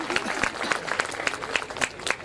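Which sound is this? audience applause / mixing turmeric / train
audience applause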